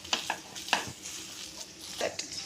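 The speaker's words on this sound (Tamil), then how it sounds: "இப்போ கிழங்கு போட்டு நல்லா மிக்ஸ் பண்ணிக்கலாம்." Boiled potato being stirred into a cauliflower cutlet mixture in a pan, a few soft scraping and clacking strokes of a spoon, close and moderate, with no talking.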